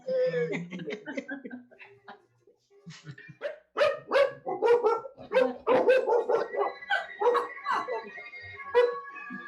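A dog barks repeatedly in a theater during a Saturday matinee stage play, its sharp barks clustering in a lively run over the second half, with voices heard early on.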